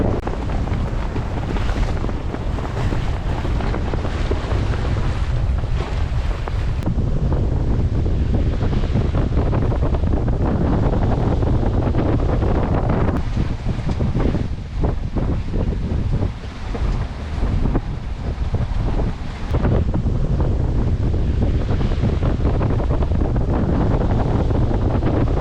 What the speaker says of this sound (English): This level of wind was like definitely not predicted.